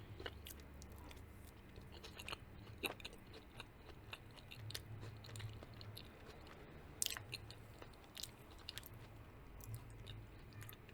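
Close, quiet chewing of homemade apple cobbler made with unpeeled, soft-cooked apples, with soft squishy bites and occasional crisp clicks repeating steadily over about eleven seconds, no talking.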